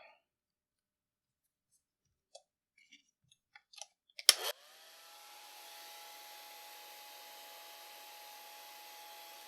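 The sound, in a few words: drying watercolor paint, likely with a hair dryer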